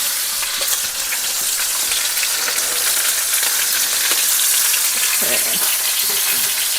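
Meat sears in an Instant Pot with a loud, continuous sizzle and crackle of hot fat and a few scraping stirs.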